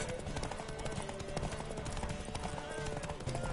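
Rapid hoofbeats clatter steadily as a horse gallops in The Witcher 3, dense and driving, under a busy game soundtrack with music and effects.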